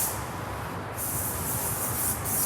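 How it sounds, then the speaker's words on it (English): Cleaner sprayed onto the legs of an ambulance stretcher cot, a steady close hiss of spray that runs continuously through the short moment. "So if I pull the cot out of the truck, I can quickly just spray down the legs"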